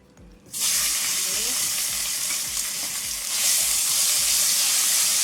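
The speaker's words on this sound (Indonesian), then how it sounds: "Sekarang kita akan tumis ya bumbunya. Ini bumbu yang sudah dihaluskan." Ground spice paste hits a little hot oil and bursts into a loud, steady sizzle that keeps going, with a soft stirring rhythm underneath.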